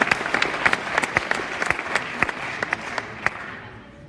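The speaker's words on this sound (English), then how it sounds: "You can already give them a warm applause." Audience applause at a hackathon final pitch event, a crowd clapping with distinct sharp individual claps standing out, fading toward the end.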